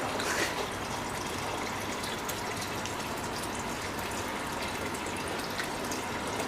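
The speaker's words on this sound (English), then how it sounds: "You see the water mixed with the sand contaminated." Water mixed with contaminated sand draining from a diesel fuel purifier, a steady rushing, gushing flow heard at moderate level without pause.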